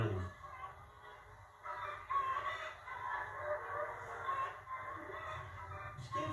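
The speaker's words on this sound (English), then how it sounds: "these are free-range chickens" Free-range chickens clucking softly nearby, with scattered short calls over a quiet outdoor background.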